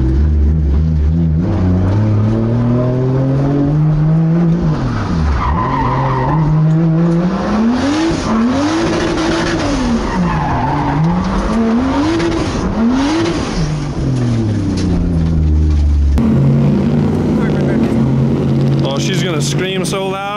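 A Nissan S14 drift car roars loudly as its engine revs rise and fall in repeated waves, tires squealing and skidding throughout, close by, with voices talking over the noise.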